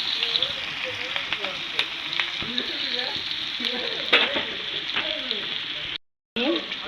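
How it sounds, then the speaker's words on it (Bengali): Chopped onion and raw fish pieces frying in a pan with whole cumin, a continuous dense sizzle with scattered spatters and a brief dropout near the end, no voices. "দিয়ে দিলাম পেঁয়াজ কুচি কাঁচা মাছ কুচি"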